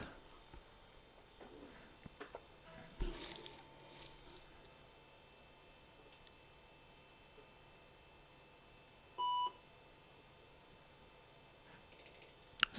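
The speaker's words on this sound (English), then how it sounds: "Single beep, and at least we did not get dropped into ROM Basic." A single computer POST beep at boot on a PC installing OS/2 2.0 sounds once, short and clear, against a quiet fan hum with a few faint clicks.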